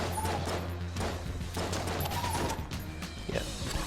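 A slow-firing gun in the video game Enter the Gungeon lets off a few separate shots, spaced about a second apart, over a steady background of game music and hum.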